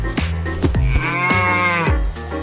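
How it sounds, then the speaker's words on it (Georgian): A stubborn donkey brays loudly in a fable about a camel and a donkey, with repeated rising and falling harsh tonal calls over about two seconds, close and alone. "ჯიუტი ვირის ყროყინი ადამიანებმა გაიგონეს."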